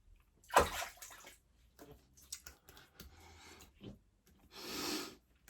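Water splashing and rinsing leftover shaving cream off a face during a wet shave with a synthetic brush: close sloshing bursts with breathy snorts, ending in a longer steady splash.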